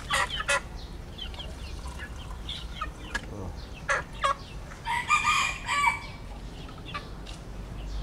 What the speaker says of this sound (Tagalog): ito yung aking Lisa Galore na manok